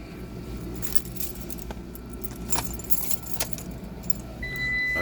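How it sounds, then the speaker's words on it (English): Metal keys jangle as the ignition is switched on in a 2015-2016 Dodge Ram ProMaster City with the 2.4L I4, close and rattly over a low cabin rumble, then a thin steady electronic tone rises near the end. "turn the key on"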